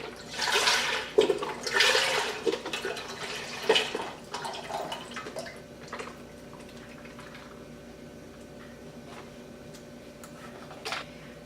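Thirty-two ounces of beef broth glug and splash into a pot on a burner, loudest at first and then settling into a quieter trickle and a low simmering wash.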